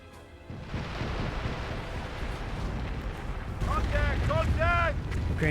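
A Calliope rocket barrage in the World War II strategy game Company of Heroes, a continuous roaring rumble of launches and impacts that builds in loudness, with a voice speaking over the noise near the end.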